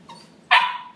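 A big dog lets out a single sharp, close bark, preceded by a faint soft yip, in a quiet room.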